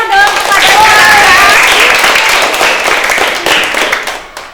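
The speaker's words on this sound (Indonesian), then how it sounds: "Yuk tepuk tangan yang meriah dong" Children in a classroom clap together in a loud burst of applause that gradually thins out, with a voice speaking over the clapping near the start.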